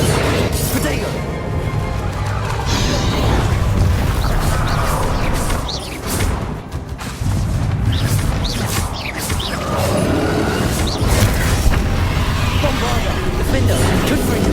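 Bombarda and Confringo spell explosions in a Hogwarts Legacy duel on PS5 form a dense, loud run of crashes and booms with a brief lull midway, mixed with game effects and voices calling out.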